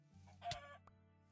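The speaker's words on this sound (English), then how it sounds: "Chicken!" A chicken in the block-building game Minecraft gives a short, close cluck over a faint low hum of game background sound, with no one talking.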